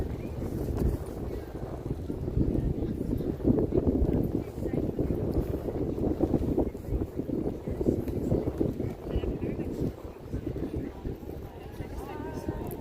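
Steady, rumbling wind buffets the microphone throughout, loud and continuous, with faint background activity beneath it, in Hyde Park, London.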